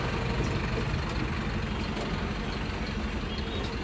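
A sleeper bus with private capsule berths travels through India, its engine and road noise making a loud, steady, unbroken rumble.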